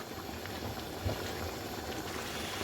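Aubergine and lentil dal heating toward a vigorous boil in a pot, a steady dense bubbling hiss that stays even and continuous throughout, with no voices.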